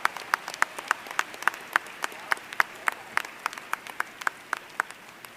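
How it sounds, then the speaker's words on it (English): Audience applause for Obama administration officials at an awards dinner, with a few distinct nearby claps in a quick steady rhythm over a softer spread of clapping. "Give the Obama administration officials a round of applause."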